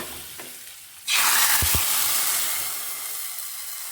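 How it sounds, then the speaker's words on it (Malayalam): Tempering for a Kerala village curry: mustard seeds, curry leaves and dried chillies are dropped into hot coconut oil. A quiet start gives way to a sudden loud, bright sizzle with a couple of dull knocks, and the hiss slowly fades. "അപ്പോൾ വെളിച്ചെണ്ണയിൽ കടുകും കറിവേപ്പിൻ്റെ ഉണക്കമുളകൊക്കെ ഇട്ടുകൊണ്ട്"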